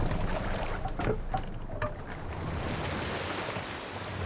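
Oars pulling a Viking longboat through rough waves in Assassin's Creed Valhalla, a continuous loud wash of surf and wind with a few faint splashing strokes near the start.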